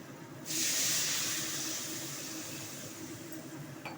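Water poured into a hot pan of spices like turmeric and cumin bursts into a loud, steady steaming hiss that slowly fades a little but keeps sizzling to the end, with no talking.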